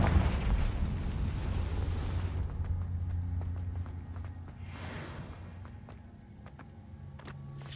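A Confringo blasting spell explodes in the video game Hogwarts Legacy, a loud booming blast with a rumbling tail that fades over a couple of seconds, followed by quieter scattered pops and ambient game noise.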